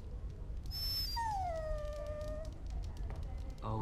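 A dog in the video game Dragon Age: Origins lets out a faint, drawn-out whine that slides downward in pitch, following a brief high tone, over a low murmur of background noise.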